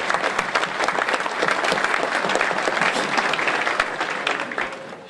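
A banquet audience gives a loud, dense round of applause, steady throughout and tapering slightly at the end.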